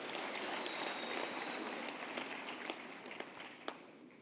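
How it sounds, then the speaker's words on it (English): A graduation ceremony crowd applauds visiting guests, a broad, steady wash of clapping at moderate distance with a few sharper individual claps standing out near the end. "Let's give them a big round of applause."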